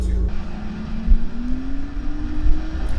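A big-turbo BMW M3 accelerates hard, its engine note climbing steadily in pitch as it pulls away, loud and close, with a deep rumbling roar underneath.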